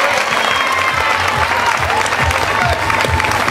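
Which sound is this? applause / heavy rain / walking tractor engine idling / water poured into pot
applause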